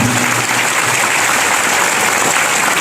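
A church congregation at the St. Francis Xavier feast applauds together in a dense, continuous wash of clapping that stays loud and even throughout.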